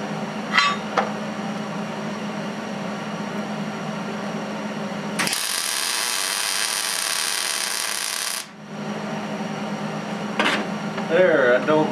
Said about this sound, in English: One more weld on that holder.